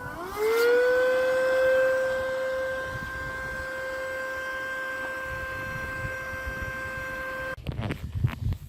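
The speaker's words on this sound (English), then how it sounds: "I just finished pump and turned it off because it's too noisy to talk" Electric pump inflating an inflatable SUP paddleboard, powered by a Milwaukee 12V battery, whining with a steady rising tone and hum, loud and close, then switched off with clicks and handling noise at the end.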